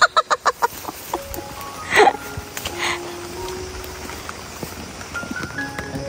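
Chickens clucking at a poultry farm near a cockfighting pit, with a run of quick rhythmic clucks at the start and a louder squawk burst midway, set against distant rural background noise and other faint bird calls.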